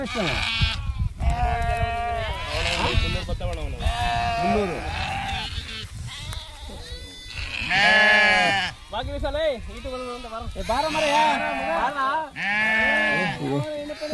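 Sheep in a flock guarded by shepherds and their dogs bleat repeatedly, loud and close, with overlapping wavering cries, while people talk among the animals.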